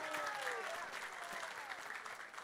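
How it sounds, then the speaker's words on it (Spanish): Applause from the congregation at a Corpus Christi mass, a broad wash of clapping with a few voices calling out, moderately distant and continuous throughout. "démonos un aplauso todos, un aplauso grande a la comunidad celebrante"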